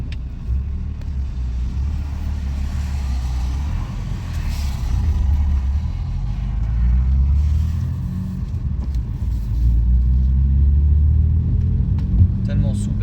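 A car with plenty of torque pulls away and accelerates, its deep engine rumble steady and close from inside the cabin, swelling gradually as speed builds.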